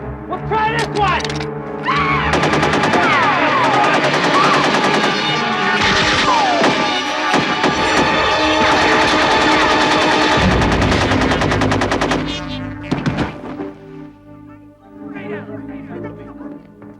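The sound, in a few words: gunfire in a movie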